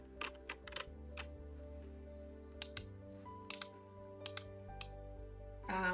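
Quiet, scattered keystrokes tap on a computer keyboard in short irregular bursts over a low steady hum, with no talking.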